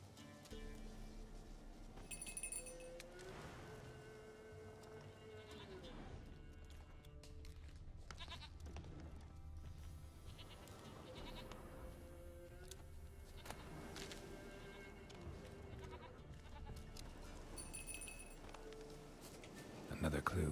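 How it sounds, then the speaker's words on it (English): Goats bleat in The Witcher 3 game, several wavering cries scattered across the scene, moderately near, over a soft ambient bed with faint rumbling and occasional clatter. "Goat hooves!"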